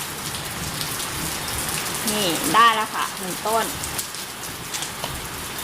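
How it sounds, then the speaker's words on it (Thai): Rain falls steadily in the background of a Thai home garden while a plant is being propagated, a soft continuous patter with someone talking briefly over it. "ได้ยินเสียงฝนตกด้วยนะคะ"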